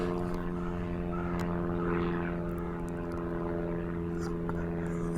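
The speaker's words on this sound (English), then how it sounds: "It's just the aeroplane going." A propeller airplane flies overhead, a steady droning hum with low tonal harmonics that holds at moderate loudness throughout.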